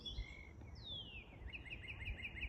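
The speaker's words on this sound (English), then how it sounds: "Cardinal." A cardinal sings at a Dennis, Massachusetts sunrise, one long descending whistle followed by a quick run of repeated chirps, faint and distant over a low background hum.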